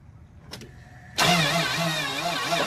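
A Dodge Dakota pickup engine cranks briefly with a couple of starter clicks, then catches and roars into a loud, steady running rumble close by.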